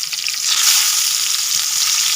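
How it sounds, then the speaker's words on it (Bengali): Pointed gourd fries in hot oil with a loud, bright, hissing sizzle that stays steady and close throughout. "পটলগুলোইতে তেলের উপরে দিয়ে দিলাম,"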